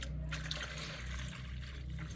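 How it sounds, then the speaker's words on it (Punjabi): Hot water is poured into a bucket with a brief, continuous splashing trickle, fairly soft and close, with no voices. "ਡੋਲ ਤਾਂ ਹੋਰ ਤੇ ਪਾ ਦਈਏ ਗਰਮ ਪਾਣੀ"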